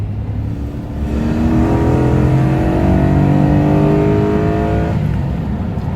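A 2003 Toyota Hilux 4x4 pickup with a swapped Lexus 3UZ-FE 4.3 V8 accelerating hard in second gear, its loud engine note rising steadily in pitch for several seconds, recorded close with no talk.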